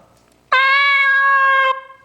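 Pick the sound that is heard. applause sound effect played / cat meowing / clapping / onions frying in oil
cat meowing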